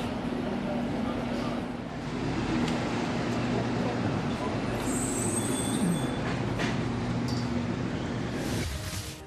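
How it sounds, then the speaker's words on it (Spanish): Subway train running through a tunnel on an underground line heading toward San Pablo from Tobalaba station, a steady loud rumble with wheel squeal and rattling throughout, and faint voices underneath. "se subieron al ferrocarril subterráneo para llevar música"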